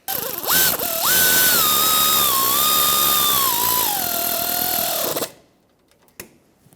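A power tool tightens brake caliper bolts on a 2014-2021 Mazda 6 during rear hub work, giving a loud, steady whine that bends slightly in pitch for about five seconds, then cuts off into near silence with a faint click.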